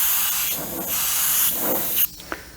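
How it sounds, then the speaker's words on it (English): A GSI Creos PS-290 airbrush blows a loud, steady hiss of air for about two seconds, then cuts off abruptly, leaving a brief short puff after it. "You could use it just like an airbrush where You hold the air on"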